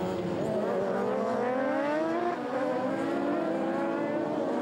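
Radical race cars scream past at Croft circuit, their high, rising and falling engine notes overlapping at moderate distance as the field accelerates through the opening lap. No one speaks.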